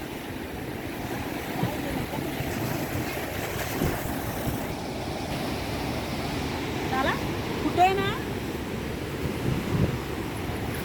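Steady wash of Arabian Sea waves and surf with wind noise throughout, heard from a sea walk at Udupi, voices talking faintly in the background.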